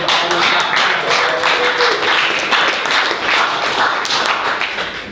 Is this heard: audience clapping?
yes